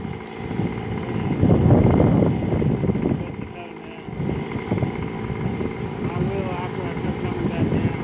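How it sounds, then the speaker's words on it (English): Gusty wind rushes around a tree trimmer working up in a tree, a steady low roar that swells loudly near the start, with voices talking faintly underneath. "Is that windy enough for you up there?"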